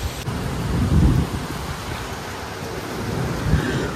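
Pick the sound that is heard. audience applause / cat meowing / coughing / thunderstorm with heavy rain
thunderstorm with heavy rain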